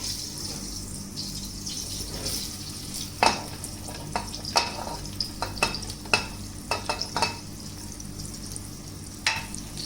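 Bread slices stirred in melted butter in a pan: a steady low sizzle with scattered sharp spatula clicks and scrapes, close and moderately loud, with no talking.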